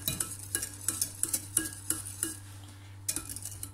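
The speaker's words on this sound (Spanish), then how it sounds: "Las vamos a batir un poquito más." Microwave custard is whisked in a bowl, a quick, fairly quiet series of tapping, clinking strokes against the bowl, with a brief pause near the end and a steady low hum behind.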